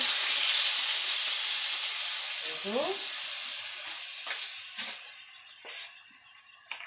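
Adobo of chicken feet sizzling loudly in a hot pan as soy sauce is poured in, a steady hiss that gradually fades, with a few scrapes and clinks from stirring near the end.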